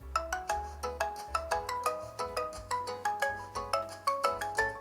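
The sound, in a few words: default phone ringtone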